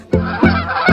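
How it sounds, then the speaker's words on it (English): Three loud, close goose honks sound in quick succession, each a short nasal blast, from a cartoon animal sound set. "Goose"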